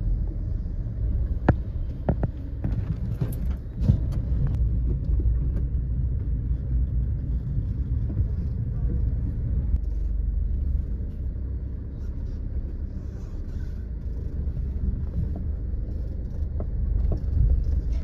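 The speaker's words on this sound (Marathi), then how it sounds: "आम्ही आता मॉलच्या पार्किंग मध्ये कार पार्क करून घेतोय" A car rolls slowly into a mall parking lot in Wakad, Pune, its engine a steady low rumble throughout, with a few sharp clicks and knocks near the start and no talk.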